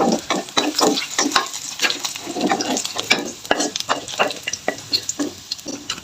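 Shallots, garlic and candlenuts frying in hot oil for tofu meatballs, a steady crackling sizzle with irregular bursts and stirring scrapes, close and continuous with no talk.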